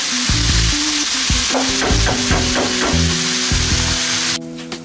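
Carbonara ingredients sizzle and simmer in a pan, a steady close frying hiss with scattered pops and stirring scrapes, heard alone before the sizzle cuts off abruptly at the end.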